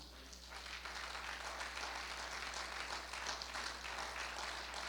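Congregation at a church service applauding together, a steady broadband wash of clapping held at moderate level for about five seconds, slightly distant and reverberant.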